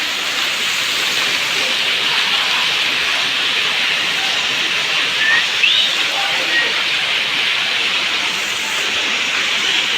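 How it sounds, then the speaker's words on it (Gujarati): Heavy rain falls on the streets of Junagadh as a loud, continuous, even hiss that holds steady throughout with no breaks. "એટલે બધો વરસાદ આવી ગયો છે।"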